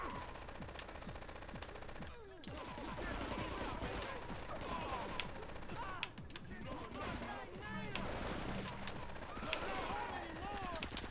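AK rifle fire in Grand Theft Auto III crackles in dense, rapid bursts, loud and nearly continuous, with a brief pause near the start and other game noise layered in.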